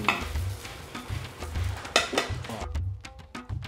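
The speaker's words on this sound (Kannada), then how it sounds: "ಸಾಸಿವೆನೂ ಇವಾಗ ಚಿಟ್ಕುಡ್ತಾ ಇದೆ" Two tablespoons of mustard seeds splutter and pop in hot oil for a temple-style puliyogare, making quick crackles and spits along with stirring and pan scrapes near the microphone.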